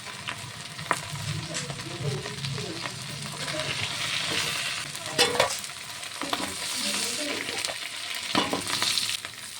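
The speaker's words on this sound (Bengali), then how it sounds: "তেলটি গরম হয়ে গেছে, চিংড়ি মাছটি ভেজে নেব।" Prawns frying in hot oil in a home kitchen, a constant loud close sizzle broken by sharp scraping stirs and occasional spatters, with no one talking.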